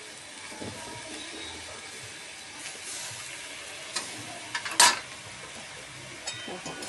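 Kande pohe, flattened rice with onion, is stirred in a pan over a low gas flame, giving a faint, steady sizzle with soft scraping and one sharper clink of the spoon near the end.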